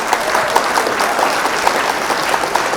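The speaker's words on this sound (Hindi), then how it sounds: "एक बार जोरदार तालियां बजाइए हमारे" Steady, dense applause from a seated audience after a humorous Awadhi poem recital, many hands clapping at once with a few louder claps rising out of the wash, with no voices over it.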